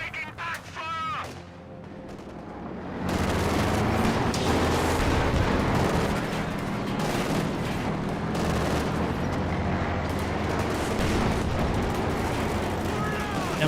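Battle sounds from the World War II strategy video game Company of Heroes 2: a dense, continuous barrage of gunfire and artillery booms that erupts suddenly and persists loudly, with someone commentating over it.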